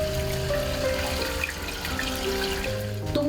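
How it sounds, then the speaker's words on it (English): Cold water runs steadily from a tap into a basin, splashing and trickling with no voices. "Washing with cold water in winter is common practice for this family."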